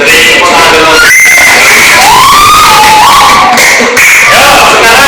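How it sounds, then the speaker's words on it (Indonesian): A group of children applaud, cheer and shout loudly together, their voices rising and falling in an excited, continuous roar. "Beri tepuk tangan dulu."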